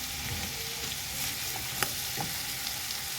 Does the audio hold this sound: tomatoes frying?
yes